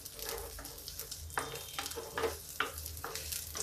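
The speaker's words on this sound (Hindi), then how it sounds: "जब तक परवल मेरा भून रहा" Pointed gourd (parwal) frying in mustard oil in a pan, a soft steady sizzle broken by several scraping stirs, close but fairly quiet, with no voices.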